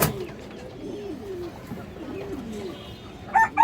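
A pure khora gola male pigeon coos close by in a series of soft, rolling, repeated calls, followed by a couple of brief higher chirps at the end.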